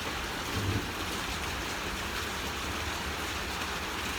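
Torrential rain pours down steadily as a dense, broadband hiss of drops on surfaces, loud and continuous throughout with no letup.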